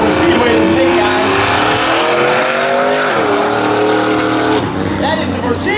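Street drag race cars launch at Beach Ridge Motor Speedway, engines roaring loudly and close with rising revs and a gear-shift dip, crowd noise and talk underneath.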